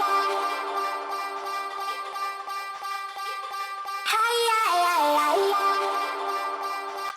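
Sustained atmospheric pad made from a processed vocal in a 4x4 dancefloor drum and bass track, a smooth harmonic drone that shifts to a new pitch partway through, moderately loud and without speech.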